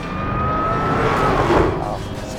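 A Dodge Hellcat's engine revving, a deep, loud, close roar that swells to a peak and then drops back, with faint background voices.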